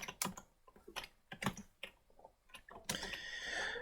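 Typing on a computer keyboard, heard as irregular quiet clicks and short bursts of keystrokes, faint and close, ending in a brief busier stretch of noise.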